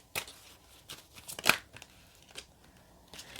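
Cards from a Vice Versa tarot deck being shuffled by hand: a few sharp, papery riffles and flicks spaced irregularly, the loudest burst near the middle, close and alone with no talk.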